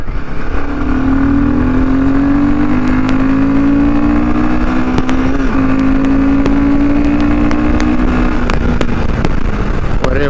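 A Royal Enfield Himalayan 450 motorcycle engine revs up and accelerates hard, its rising drone loud and close, with wind and road noise throughout.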